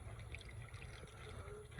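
Diesel fuel is poured into the fuel filter of a Primastar/Trafic/Vivaro 1.9 dCi van engine, a faint, steady liquid trickle and gurgle heard alone without talk.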